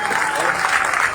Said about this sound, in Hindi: इतनी जोरदार तालियां होनी चाहिए आपकी।